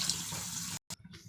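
Water is poured from a glass into a mixture being thinned out in a home kitchen: a steady splashing stream, a sudden brief break, then a lighter uneven trickle.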